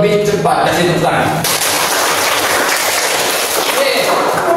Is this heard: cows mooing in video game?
no